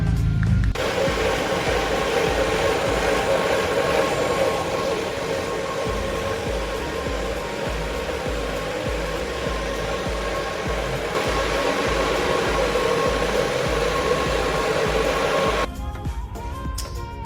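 A concrete floor grinder runs on a garage floor, a loud, steady droning whir that holds for about fifteen seconds before cutting off and winding down near the end.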